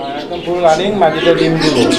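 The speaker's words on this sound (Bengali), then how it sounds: "এটা বোম্বাই কবুতরের একটা জোড়া তো আপনারা দেখতেই পাচ্ছেন" A pair of Bombay pigeons coo in soft, throaty, warbling phrases, close and fairly loud, with a voice talking over them.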